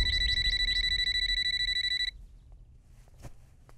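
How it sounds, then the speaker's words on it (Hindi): A telephone bell rings in rapid repeated bursts, loud and close, for about two seconds, then stops abruptly, leaving quiet room noise with a few faint clicks. "फोन इतनी देर से बज रहा है, उठाते क्यों नहीं?"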